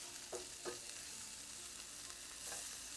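Two cloves of minced garlic fry in a pan for chicken pot pie, a faint steady sizzle with a few soft stirring scrapes near the start.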